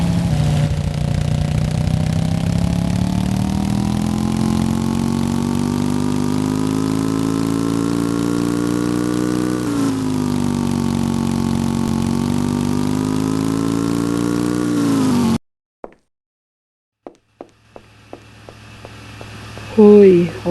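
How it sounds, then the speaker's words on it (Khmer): A motorcycle engine runs loudly and steadily nearby, its pitch wavering and then rising as the bike rides off. The engine cuts out suddenly, leaving near silence, then scattered clicks and faint sounds follow. "ហើយរកជិះម៉ូតូទៅមើល"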